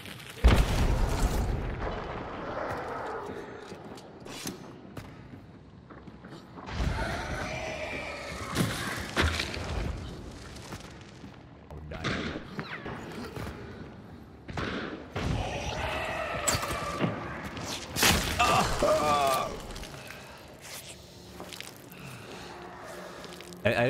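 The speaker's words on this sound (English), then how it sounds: "I'm just shooting into the smoke at this point." Gunfire from Hunt: Showdown sent blindly into a cloud of smoke: heavy, booming shots crack out loud and close in uneven bursts, with a voice talking intermittently in between.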